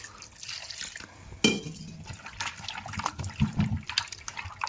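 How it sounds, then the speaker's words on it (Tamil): Water splashes and trickles into a clay pot of goat curry meat, with irregular liquid pouring sounds and a few clinks, moderately close. "தண்ணி வந்து லைட்டாக ஊற்றி ஆட் பண்ணி நல்லா மிக்ஸ் பண்ணிக்கணும்"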